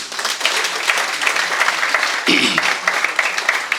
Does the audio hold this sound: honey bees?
no